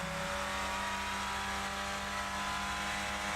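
Renault Clio Cup race car in iRacing held at full throttle, a steady loud engine drone with a fixed pitch that never climbs, continuous for the whole stretch with no speech.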